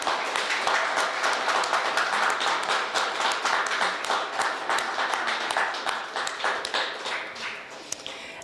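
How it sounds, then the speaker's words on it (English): An audience at a New Year's awards presentation claps for scholarship winners, a close, moderately sized round of applause with distinct individual claps that gradually thins toward the end. "So please come up in a round of applause."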